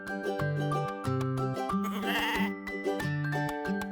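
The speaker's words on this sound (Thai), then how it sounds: "แม่แพะกับลูกแพะ ใช่แล้ว นี่คือลูกแพะ" Cartoon mother goat and kid bleating in a farm scene, repeated wavering bleats in quick succession, close and fairly loud over light background music.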